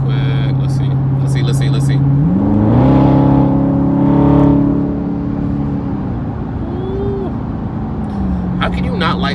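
A 2019 Dodge Charger Scat Pack V8 engine drones steadily, then revs and climbs in pitch as the car accelerates, holding loud before easing back down.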